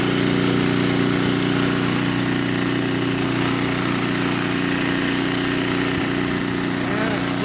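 Craftsman 522 snow blower with a Tecumseh engine running steadily close by, a loud continuous small-engine drone with a strong low hum and high whine that stays constant throughout.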